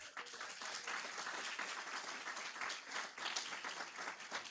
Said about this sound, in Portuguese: Você pode aplaudir o Senhor por esta palavra?